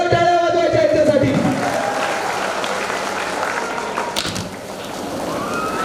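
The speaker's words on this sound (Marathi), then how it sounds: "चला 1 2 3 एकदा जोरदार टाळ्या वाजवायच्या याच्यासाठी" An audience claps loudly at a Marathi stage event with a giveaway, starting as a thick burst of applause that tapers off over a few seconds while people keep talking.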